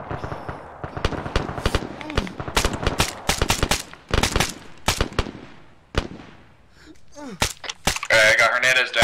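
Sharp rifle and machine-gun bursts crack close by in an ArmA 3 firefight, shots coming in rapid clusters with short gaps and voices talking between them.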